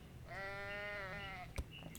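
Goats bleat in the Ranch Farm & Store Simulator video game, a single long wavering bleat that runs clear and close, followed by a brief thump.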